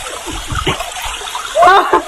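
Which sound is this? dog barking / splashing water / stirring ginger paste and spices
splashing water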